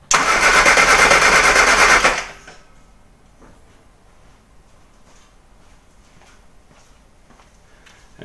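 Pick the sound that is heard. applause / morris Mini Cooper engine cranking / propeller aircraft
morris Mini Cooper engine cranking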